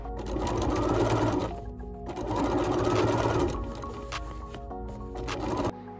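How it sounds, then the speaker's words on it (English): A sewing machine understitches the lining edge of a reversible cotton bucket hat, its motor whirring in loud close bursts that pause briefly between runs of stitching, with no voices. "Understitch the edge to keep the lining on the interior side."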